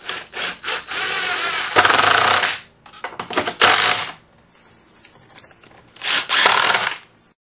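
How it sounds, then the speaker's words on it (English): Short bursts of power-tool whirring and clattering, close and loud, separated by quiet gaps, as a trolling motor is mounted and clamped onto a test table. "Now let's get this trolling motor attached to the table."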